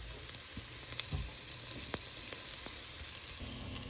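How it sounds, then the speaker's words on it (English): Onions fry in a pan toward golden, giving a steady, even sizzle throughout with occasional soft clicks and stirring knocks, no voices over it. "go ahead and put your onion first. And cook it until it's nice and golden."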